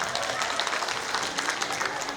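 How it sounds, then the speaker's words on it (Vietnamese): Audience applause for performers at a Hmong New Year event, dense sustained clapping from a crowd throughout, moderately loud with no talk. "một lần nữa xin quý vị hãy cùng dành một tràng pháo tay thật lớn để cùng cảm ơn các nghệ sĩ được không ạ"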